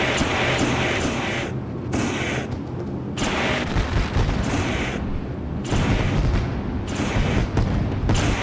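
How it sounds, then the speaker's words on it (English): Fireworks bursting and flame effects firing at a race track before the start, heard as a steady run of loud, booming, crackling blasts in rapid clusters with brief gaps between them. "you can hear the fireworks going and the flames are shooting"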